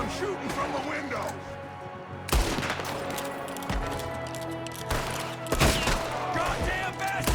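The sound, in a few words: gunfire in a shootout, from the video game Red Dead Redemption 2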